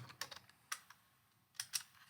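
Quiet typing on a computer keyboard, a few short irregular bursts of clicks with pauses between, close and soft.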